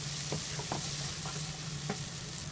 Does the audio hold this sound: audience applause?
no